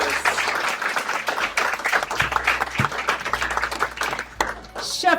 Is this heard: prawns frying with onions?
no